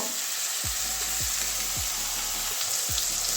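Pointed gourd (potol) frying in hot oil, a dense continuous sizzle with a few low thuds as pieces shift, steady and close throughout.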